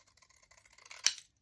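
Scissors cutting paper for a vintage mixed-media craft project, faint soft snipping that ends in one crisp, louder closing snip, close and quiet.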